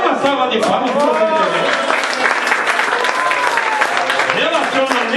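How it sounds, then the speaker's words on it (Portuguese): An audience breaks into loud, dense applause during a church service, sustained clapping that mixes with a voice speaking over it throughout. "Uma salva de palmas para você"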